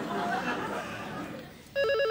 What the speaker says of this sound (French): Ah, y a pas de doute, hein. C'est bien le téléphone.